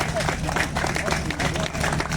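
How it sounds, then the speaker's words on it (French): Audience applause at an outdoor classic car concours d'élégance, a dense patter of clapping hands blending with crowd noise and talk across the whole stretch. "vous pouvez l'applaudir parce que franchement"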